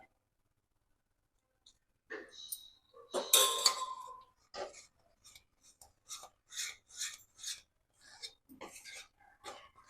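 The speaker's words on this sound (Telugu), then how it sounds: "ఈ నెయ్యి ఒక్కో గరిట వేసుకుంటూ కలుపుకోవాలి" Hot ghee ladled into a thick Mysore pak mixture of gram flour and sugar, stirred with a ladle in a pan: close scraping, rasping strokes in an irregular rhythm, with a loud burst near the start and quieter repeated rubs after.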